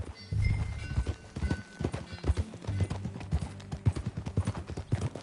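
Horse hooves clip-clop at a steady riding pace in Red Dead Redemption 2, a close, rhythmic run of hoofbeats with a faint neigh-like note at one point and low background sound.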